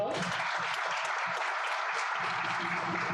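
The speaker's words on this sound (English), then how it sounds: "Can you give yourself a round of applause?" Audience applause at an inter-generational dialogue event, a steady broadband clapping wash filling the room at moderate level, with some low murmuring voices underneath.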